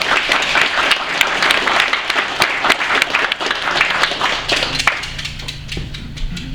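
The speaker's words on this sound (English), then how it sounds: "Let's give him a hand." Audience applause at a BC Conservative Party gathering welcoming candidate John Sherry: dense, steady clapping from a crowd, loud and close, sustained for several seconds without talk.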